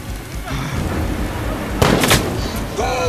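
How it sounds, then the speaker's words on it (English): Gunfire from an active shooter pinning down firefighters in the TV police drama S.W.A.T., a few sharp cracks and a quick burst of shots ringing out over tense background noise and shouting. "Someone's shooting at us, we got a man down!"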